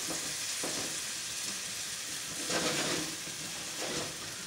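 Vegetables for an omelette sauté in a hot pan with a steady, close sizzle and a hiss that swells and eases a few times.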